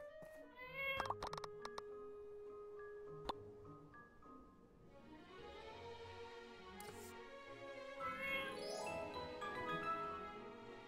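In the video game My Time at Portia, a cat meows amid game music and sound effects, with tonal chimes and short clicks early, then layered melodic tones and mewing cries building toward the end.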